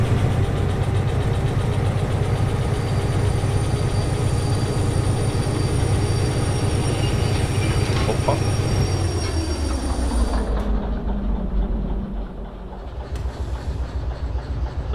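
A train in the Derail Valley simulator rumbles loudly with steady wheel and engine noise and high squeals, then the sound drops away sharply toward the end; no one speaks.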